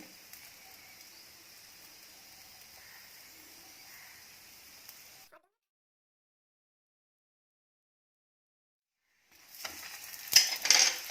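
A Punjabi-style gobi paratha fries in oil on a pan as it is flipped and oiled. A faint, even sizzle gives way to a stretch of silence, then returns louder with crackling and scraping.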